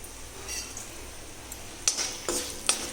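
Urad dal, a couple of fenugreek seeds, mustard and cumin fry in a little hot oil while chutney is made: a soft, steady sizzle with a few sharp metallic clinks of a utensil against the pan near the end.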